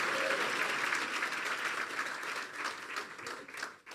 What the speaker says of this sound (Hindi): यीशु के जलाल के लिए जोरदार तालियां बजा दे